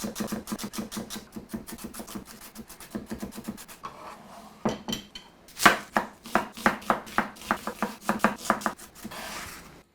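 A knife chops celery on a cutting board in a home kitchen, quick rapid strokes in bursts with a brief pause, then a second run of sharper, louder chops, close and without talk.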